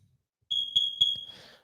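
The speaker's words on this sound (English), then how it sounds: "That is the smoke alarm." One shrill electronic smoke alarm beep sounds indoors, a steady high tone lasting under a second with faint background noise.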